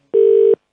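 A single clear, loud telephone dialing beep sounds on a radio call-in phone line, a steady pure tone lasting under half a second before a faint trailing noise.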